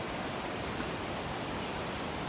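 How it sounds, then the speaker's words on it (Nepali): The Seti River near Pokhara rushes loudly, carrying water down from Phewa Lake through Davis Falls. A steady, dense roar of water runs unbroken throughout, with no voices. "यो सेती नदी सुसाउँदैछ।"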